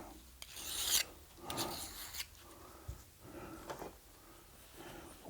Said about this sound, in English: in the process of filing or sharpening your knives